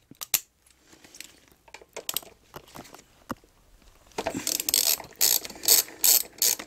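Ratchet wrench clicking while loosening the rear brake caliper bolts on a Yamaha Fazer 600 motorcycle, with scattered close clicks and knocks at first, then louder rapid ratcheting bursts near the end, no talk.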